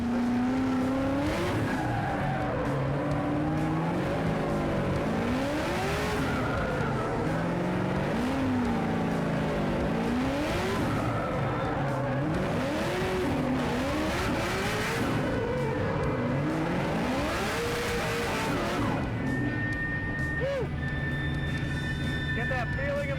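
A 1,000 horsepower Nissan S15 Formula Drift car at Streets of Long Beach, its engine rising and falling loudly in repeated revs from inside the cabin, with tire squeal and people talking over the constant roar.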